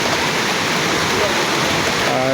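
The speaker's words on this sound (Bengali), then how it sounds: "প্রচুর বৃষ্টি হইতেছে আজকে ঢাকায়" Heavy rain pouring down in Dhaka, a dense, loud, unbroken rush of water that fills the whole moment with no gaps.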